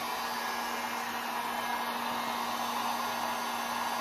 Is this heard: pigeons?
no